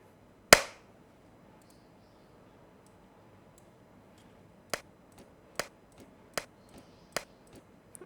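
Single sharp hand claps recorded into a phone sampler app: one loud, close clap at the start, then after a pause a series of five quicker, evenly spaced claps in a quiet room.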